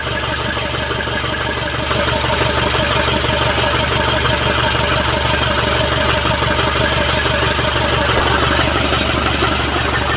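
An Isuzu 4HL1 diesel engine with a hard-starting fault, now running at a steady loud idle with a rough, even rumble that continues throughout, close by, with brief voices nearby.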